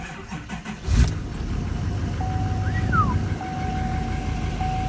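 A diesel truck engine with a newly installed turbo on an L5P cranks and catches with a sharp burst, then settles into a steady rumble while a faint electronic chime beeps in the background.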